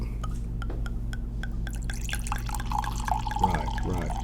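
Drink poured from a larger-than-usual bottle into a glass, with a series of evenly spaced drips giving way to a steadier gurgling stream of liquid, close and clear over a low steady hum.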